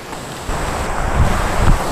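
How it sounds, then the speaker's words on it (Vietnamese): A forest stream flows with a loud, steady broadband rush that sounds near, mixed with gusty wind buffeting the microphone and with no talking. "Nhìn đằng sau có dòng suối chảy, nhìn đẹp thật."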